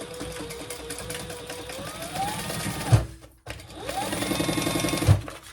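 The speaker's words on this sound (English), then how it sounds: "we're going to stitch that closed." Sewing machine stitching a crossbody bag closed, two close, steady runs of rapid mechanical whirring, each rising in pitch as it speeds up and ending with a thump, with a short pause between them.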